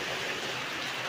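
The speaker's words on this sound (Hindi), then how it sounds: "अब हमारे यहाँ भी बारिश हो रही है।" Steady rain pours in Himachal, with water running hard off a roof, a dense, even hiss of falling water that fills the whole short stretch at a moderate level with no voices.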